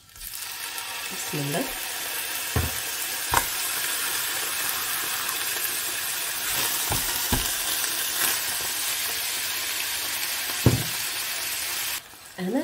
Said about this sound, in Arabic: نحط الزيت، زيت زيتون، نحط اللحم نقليها